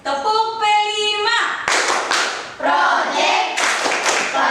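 Rhythmic group clapping from schoolchildren doing a classroom clap chant in Indonesia, sharp bursts of hands in patterned beats following a sung or spoken line, fairly loud and close.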